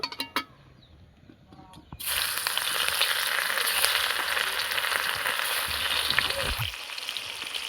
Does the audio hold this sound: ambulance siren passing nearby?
no